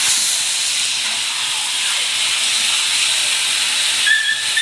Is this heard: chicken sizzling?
yes